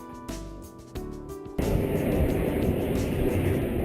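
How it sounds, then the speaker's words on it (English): Airliner arriving from Melbourne on approach to land at Cairns airport; after a few faint knocks, a loud broadband engine roar rises suddenly and holds steady, close and alone. "Annie's plane comes in to land at the Cairns airport all the way from Melbourne"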